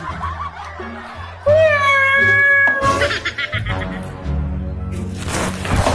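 A cat meows loudly in a long, rising, wailing cry close by, mixed with excited human voices and laughter shouting around it.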